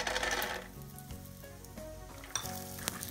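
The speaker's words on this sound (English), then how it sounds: "Roast the peanuts until they are golden brown." Peanuts roast in hot cooking oil in a pan for poha, a steady close sizzle with light crackles and occasional clinks of stirring.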